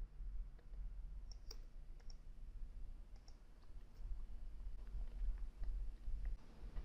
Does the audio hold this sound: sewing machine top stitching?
no